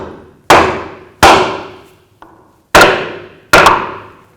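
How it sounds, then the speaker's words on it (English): A hammer striking a block of wood drives a rear axle seal into a 2000-2006 Chevy Tahoe axle housing: five sharp, loud, close knocks with brief ringing decays and one lighter tap between them. "Use a hammer and give it a tap."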